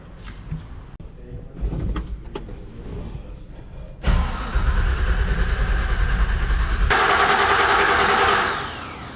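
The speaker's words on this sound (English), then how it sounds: "I'm gonna crank this engine over without the fuel pump running so I can get some oil pressure first." A supercharged LT4 V8 in a lifted Chevy Squarebody cranks over without starting. After some opening clicks and rustling, the starter whirs in a steady, loud, rhythmic churn for about five seconds and then winds down.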